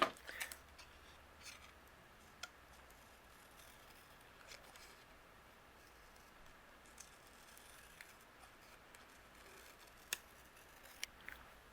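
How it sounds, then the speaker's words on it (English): Scissors fussy-cutting paper flags for a handmade card, soft scattered snips and small clicks, quiet and close in an otherwise hushed room. "I'm going to use my scissors and fussy cut out both of these flags."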